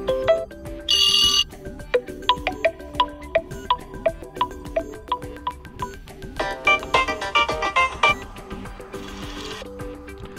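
A OnePlus phone plays default ringtones one after another, a string of short, bright melodic chimes and beeps in changing patterns, moderately quiet and close, with no talk.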